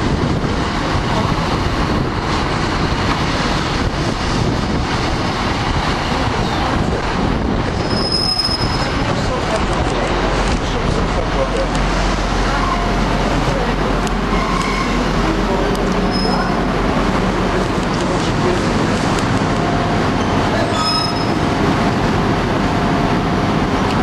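A heavy train hauled by four class 56 diesel locomotives rolls past at close range, a loud continuous rumble with sharp wheel squeal bursts and rail noise throughout.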